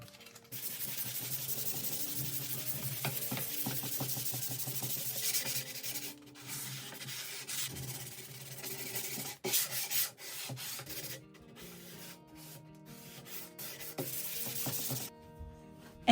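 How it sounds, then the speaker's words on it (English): Hand scuff sanding with 220 grit sandpaper on a bathroom vanity ahead of painting, a steady close rasping rub that runs in long continuous strokes, pausing briefly a few times, with no talking. "I'm going to be scuff sanding everything else using 220 grit sandpaper"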